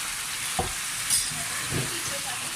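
Minced meat keema frying in a pan with tomatoes added, a continuous bright sizzle with a couple of short stirring scrapes close by.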